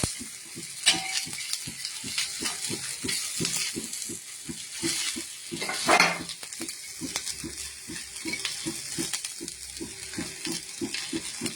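Jackfruit seed cutlets fry over low heat in a pan with about a spoonful of oil, giving a steady soft sizzle marked by regular clicking ticks and a couple of brief louder crackles.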